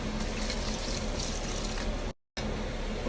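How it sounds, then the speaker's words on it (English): Water poured into a pot of chicken biryani, a steady, close, full splashing pour lasting a couple of seconds, cut by a brief gap of silence before the pouring resumes. "now you need to add 2 cups of water"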